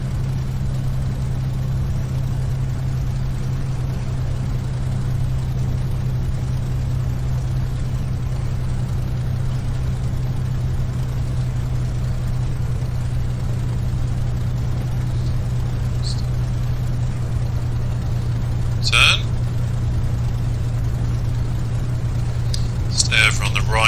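Simulated P-51D Mustang engine at takeoff power in the A2A flight simulator, a loud, steady, unbroken drone that holds constant throughout, with a few faint clicks near the end.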